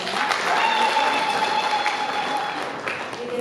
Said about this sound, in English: Wow, a round of applause.